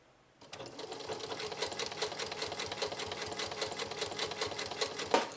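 Janome Memory Craft 6700P sewing machine, freshly serviced, stitching at a steady fast pace with a smooth, quiet mechanical whir and rapid rhythmic ticking of the needle, starting abruptly and running continuously, close by.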